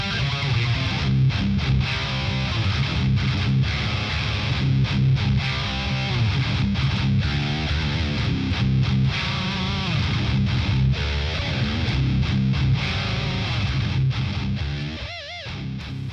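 An electric guitar played through a BOSS Katana Gen 3 amp on its deep setting gives dense, distorted, resonant chords and riffs in a continuous heavy-rock sound, loud and unbroken, with no voices.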